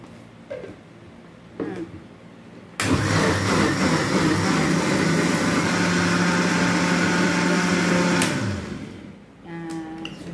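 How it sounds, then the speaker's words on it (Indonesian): A kitchen blender grinds rendang spices with a little added water, switching on abruptly into a loud, steady whirring roar for about five seconds before winding down, with a few quiet knocks before and after. "kita pindahkan karena kita mau pakai blender ini lagi"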